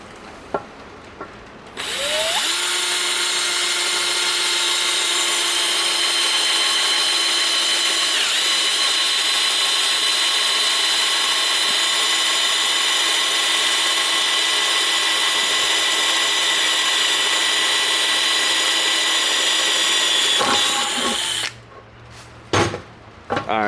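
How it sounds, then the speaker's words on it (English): A drill bores into a cracked drift car wheel with one loud, close, continuous whine that holds steady for nearly twenty seconds, spinning up at the start and winding down at the end. "Alright, so now that's drilled"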